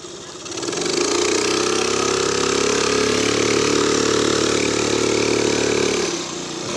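A Honda PC50 moped's small engine runs steadily and close, rising in from near silence, droning evenly for several seconds, then fading away, with no speech.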